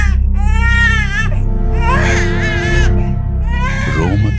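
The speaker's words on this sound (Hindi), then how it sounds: "डिब्बी के अंदर से एक छोटे बच्चे के रोने की आवाज आ रही है।" A small baby cries as a sound effect in a Hindi horror story, three loud wailing bursts with short pauses between them, close and alone over a low rumbling background.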